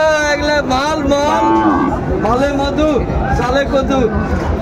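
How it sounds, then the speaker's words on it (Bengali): Sahiwal bull calves moo repeatedly in loud, overlapping calls close by, with a crowd murmuring in the background at a livestock market. "শাহিওয়ালের ষাঁড় বাচ্চা আমরা দেখছিলাম বেশ সুন্দর কোয়ালিটি সম্পন্ন"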